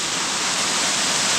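A waterfall pours over rocks outdoors, producing a steady, loud, broadband rushing roar that holds constant throughout with no pauses.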